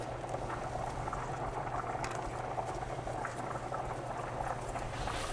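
Broth mixture poured over a dish in a holiday kitchen gives a steady, close liquid bubbling and pattering that runs continuously for several seconds under a low room hum.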